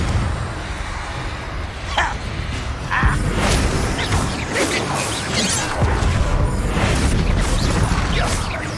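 Confringo blasting curse going off in a Hogwarts wizarding video game, a run of sharp explosive bursts and crashes over a dense, continuous rumbling battle din.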